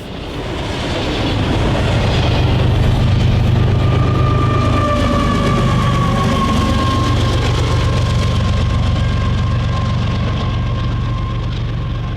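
A BNSF freight train on the Transcon in Arizona rolls past with DPU locomotives, a loud, steady rumble and rattle of wagons with sustained wheel squeal, building in at the start and holding strong throughout with no talk.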